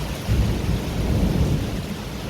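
A thunderstorm with heavy rain during a sudden downpour, a dense, loud roar of rainfall with low rumbling thunder rolling underneath, continuous and close.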